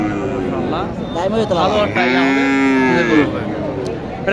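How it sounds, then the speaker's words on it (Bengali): A Sahiwal cow at a busy cattle market in Naogaon gives a long, loud, close moo, rising and then falling, over a constant murmur of crowd noise. "শাহিওয়াল একটি গরু"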